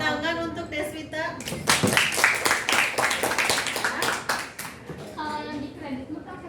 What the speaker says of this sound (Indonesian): Tepuk tangan untuk Deswita.